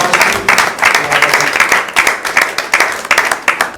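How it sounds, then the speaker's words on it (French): A studio audience at a gospel television show in Kindu claps and cheers in a steady, dense burst of applause lasting a few seconds, with no talk over it. "Est-ce qu'on peut acclamer Gloire à le Seigneur?"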